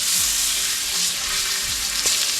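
A T-bone steak sizzles loudly on a hot outdoor skottle griddle greased with bacon fat, a steady close crackling hiss that runs throughout with a few faint scrapes underneath.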